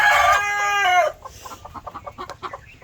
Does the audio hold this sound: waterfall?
no